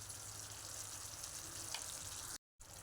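Paneer bhurji masala with garam masala and salt fries in oil in a pan, giving a steady close sizzle and crackle throughout, broken by a brief gap near the end, with no talking.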